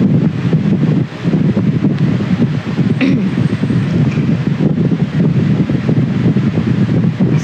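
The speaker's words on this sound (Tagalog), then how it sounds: "Sarap ng hangin, guys." Wind buffets the microphone outdoors in a strong, continuous rumbling roar that fills the whole stretch, with rustling gusts and a brief dip near the start.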